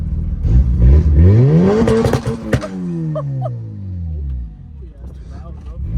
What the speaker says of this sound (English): Dude, that was loud. You hear the turbo?